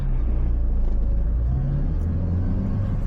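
A manual car accelerates from inside the cabin, a loud low engine rumble that holds steady, with the pitch rising slightly as the revs climb.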